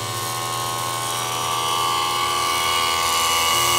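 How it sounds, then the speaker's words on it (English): A vacuum pump runs steadily with a constant loud mechanical drone and whine as it evacuates the refrigerant system of a pool heater after a compressor replacement. "We've had the vacuum on for about 20 minutes now."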